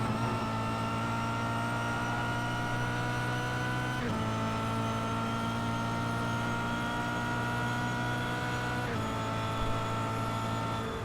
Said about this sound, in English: Just hit the car on the rev limiter though